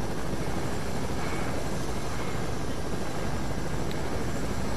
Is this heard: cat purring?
no